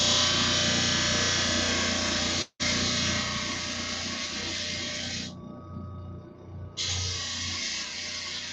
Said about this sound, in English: You see, I've just about got all the layers sanded away.